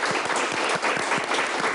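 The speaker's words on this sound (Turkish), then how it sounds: "Başkanıma bir alkış." Studio audience on a Turkish broadcast applauding the association president, brief steady clapping at moderate level, no talk over it.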